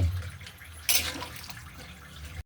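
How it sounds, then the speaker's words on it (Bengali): A small amount of water poured into a pan of simmering duck meat curry, a short splashing pour over a low bubbling background, close and brief, no one talking. "আমরা যেহেতু মাখা মাখা করবো তাই অল্প পরিমাণে পানি দিয়ে দিলাম"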